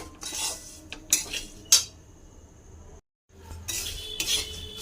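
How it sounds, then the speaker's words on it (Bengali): A utensil scrapes and clinks against a pan while flattened rice is mixed with salt and turmeric, in several short bursts of stirring with a brief pause midway. "এবার ভালো করে মিক্স করে নেব।"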